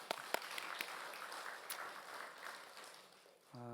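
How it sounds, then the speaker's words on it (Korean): A Korean church congregation at a Wednesday prayer meeting applauds its choir, faint, distant clapping that tapers off before a voice begins at the very end. "박수로 격려해 주시기 바랍니다"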